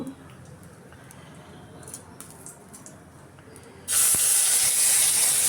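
Spices hit hot oil in a pot of cooking dal, setting off a sudden loud, steady sizzle partway through after quieter kitchen background noise.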